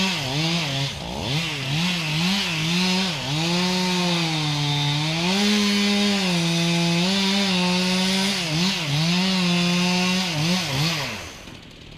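A chainsaw runs close and loud, its engine pitch dipping and recovering repeatedly as it bogs under load while cutting trees, with a continuous buzzing roar throughout.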